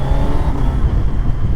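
A Kawasaki Z900 motorcycle engine pulls steadily from low revs, about 3000 rpm, in sixth gear, a loud continuous low drone close to the rider.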